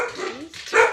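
Dogs bark indoors at close range, a couple of quick barks with a whiny tone, loud and alone without speech.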